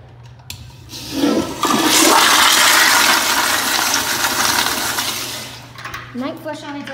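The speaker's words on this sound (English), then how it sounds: "Make sure it doesn't flush on its own." A toilet flushes loudly at close range with a rushing gush of water that builds quickly and holds steady for several seconds, then tapers off as the tank begins to refill.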